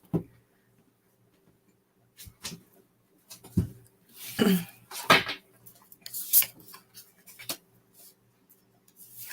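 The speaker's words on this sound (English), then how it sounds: "Let's give these cards a good shuffle," Psychic reading cards riffle and slap together in several quick bursts, separated by brief quiet pauses, close and crisp.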